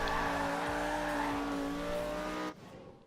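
A Lamborghini drifts in Forza Horizon 2, its engine roaring loudly with a sustained tonal tire squeal for about two and a half seconds before cutting off abruptly into a quieter hum.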